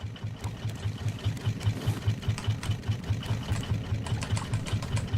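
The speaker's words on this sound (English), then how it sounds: "I need to check my engine" Boat engine on a raft in the survival video game Raft, running steadily with a fast, even low chugging pulse that stays close and fairly loud throughout, with light clatter on top.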